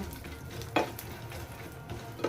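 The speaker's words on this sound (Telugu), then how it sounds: "ఇవన్నీ వేసుకొని ఫ్రై చేసుకుంటున్నాను" Raisins, almonds, cashews, walnuts and pistachios frying in a pan for rava laddu, a soft continuous sizzle with a couple of brief scraping stirs.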